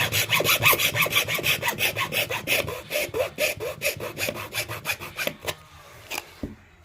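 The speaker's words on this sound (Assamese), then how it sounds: "কাটি দিলোঁ এইপিনেও এইটো চিনতে কাটিব লাগিব এইটো কাটি দিলোঁ" A hand saw cuts through wood at a marked line with steady, rapid back-and-forth strokes, loud and close, slowing and stopping near the end.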